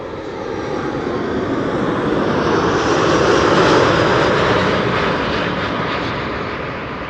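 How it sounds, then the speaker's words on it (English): A Boeing 787 Dreamliner from Austin, Texas, arriving at Amsterdam Schiphol on a sunny day: a loud, broad jet roar that swells to a peak mid-pass and then slowly fades as the aircraft goes by. "we are going to see a Dreamliner arriving from Austin"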